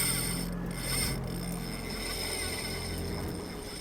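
A fishing reel's drag clicks in a continuous rapid ratcheting buzz while an angler fights an early-run Chinook salmon off Ucluelet. The sound is steady and close, with no speech.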